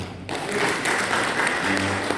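Applause breaks out among the congregation at a Sunday morning church service, starting abruptly after a brief lull and continuing as a full, even burst of clapping from many people.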